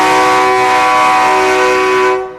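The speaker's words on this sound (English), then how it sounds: "the horns you're hearing, those are freight train horns. Freight train horns put on a semi." Freight train horns fitted to a Peterbilt semi truck at a truckers' parade blast one loud, sustained chord close by, then cut off.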